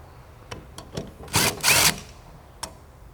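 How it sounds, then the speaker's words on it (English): Power tool removing intake bolts on a 6.7L Dodge diesel engine, a few short sharp rattling bursts followed by two longer loud whirring runs and a final brief burst, close and without talk. "So we'll go ahead and remove the remainder of the bolts."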